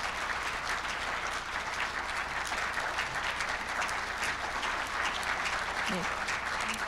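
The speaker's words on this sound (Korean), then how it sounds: "큰 박수로 맞이해 주시기 바랍니다" At a Korean media awards night, an audience gives a big round of applause to welcome a veteran journalist: steady, even clapping from a large crowd, moderately distant, with faint voices underneath.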